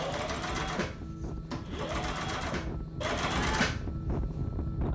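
A sewing machine stitches a thin ribbon onto a curved pocket edge, running in three fast, steady bursts separated by short pauses, close and clear with no voices.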